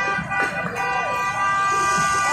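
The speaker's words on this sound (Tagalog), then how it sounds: "Ay, sabi ang ambulansya yun." An ambulance siren wails nearby at a roadside scene where a vehicle went into a canal, its steady tones holding loud throughout while people talk faintly in the background.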